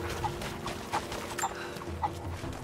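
Chickens clucking in Rise of the Tomb Raider, several short soft clucks spaced at irregular intervals over a low background hum, with no talk.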